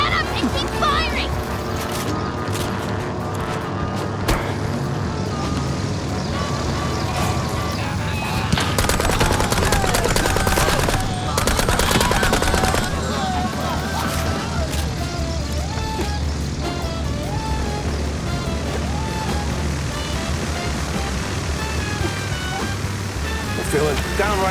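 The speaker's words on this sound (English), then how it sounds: "Just shut up and keep firing!" Rapid gunfire in MOUSE: P.I. For Hire rattles on in long, loud automatic bursts, mixed with clanking mechanisms and a busy game soundtrack, with voices talking over it.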